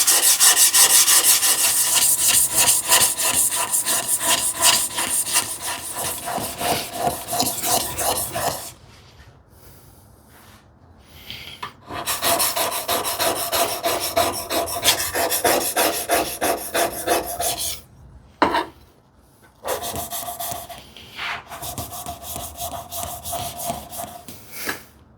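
The back of a vintage plane blade is honed flat, making close, rhythmic rasping strokes in long runs, broken by two short quiet pauses, with no talking.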